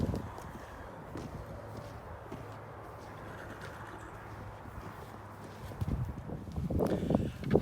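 Horse hooves walk through a winter homestead setting in the Appalachian mountains, a soft uneven clip-clop under steady ambient noise that grows louder and closer toward the end, with faint birds cooing in the background.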